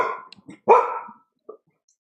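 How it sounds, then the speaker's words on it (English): Indoor dogs bark at something unseen in a home, a few short yaps and then one strong bark with a faint trailing yip, close by and alone with no talk. "my dogs are barking at something."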